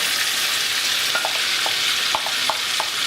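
Aubergine pulp frying in butter on a gas hob makes a constant close sizzle, with a few light scrapes and taps from stirring near the end.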